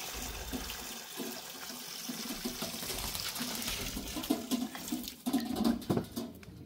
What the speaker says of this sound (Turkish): önce biraz şu sarı suyunu süzeceğim